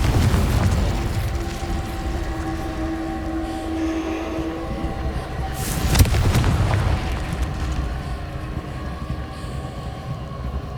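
Confringo explosion spell cast in Hogwarts Legacy, a loud booming blast near the six-second mark rising out of a dense, continuous rumble of game ambience and effects that fills the whole stretch.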